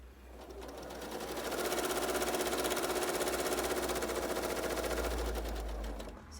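A sewing machine stitches a quilt block seam in a home craft room, a fast steady mechanical whirr and rapid needle clatter that ramps up, runs continuously for several seconds, then slows to a stop, close and alone.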